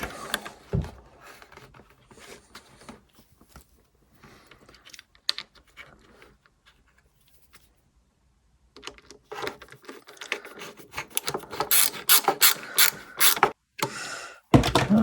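Screws being driven into the front panel of a Fiat 500 Hybrid, heard as bursts of whirring, clicking mechanical noise that grow louder and more frequent toward the end after a quiet stretch.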